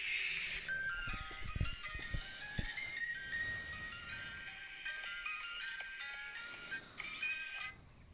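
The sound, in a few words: ice cream truck jingle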